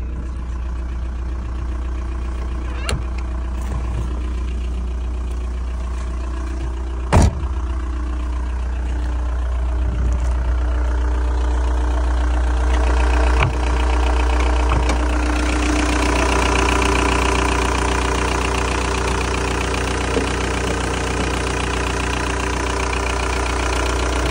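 A 1.9 TDI 81 kW car diesel engine idles steadily with a deep, even rumble, broken by a few sharp clicks and knocks nearby.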